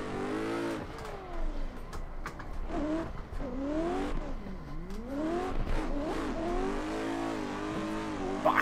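A race car in a drift video game revving hard in third gear through a drift, the engine pitch climbing and falling in repeated sweeps with tire squeal, loud and close.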